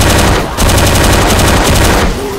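Rapid automatic gunfire in Left 4 Dead 2 goes off as loud, continuous bursts of shots, with one brief gap near the start, and no talk over it.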